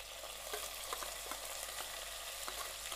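A green chili and onion paste fries in hot tempering with curry leaves for a masoor and potato pulao, giving a steady close sizzle with soft stirring clicks and a louder knock at the very end; no one speaks.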